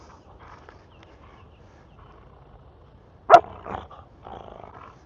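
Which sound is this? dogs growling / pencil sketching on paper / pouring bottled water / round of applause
dogs growling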